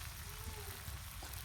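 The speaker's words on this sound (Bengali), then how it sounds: "আর ওই তেলেতে এই সবজিগুলোকে ভেজে নেব।" Vegetables such as long beans and potatoes fry in oil with salt and spices, a steady low sizzle holding evenly throughout with no talking.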